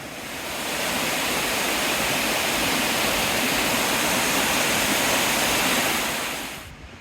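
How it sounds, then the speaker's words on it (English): A brook flows with a steady, full rush of water close by, broad and unbroken, swelling in at the start and fading at the end, with no voices. "And there's the brook."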